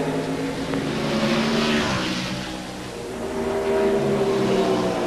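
NASCAR stock cars racing at Watkins Glen in 1997, engines roaring loudly and close by with steady revving that dips briefly midway and then swells again, with no voices.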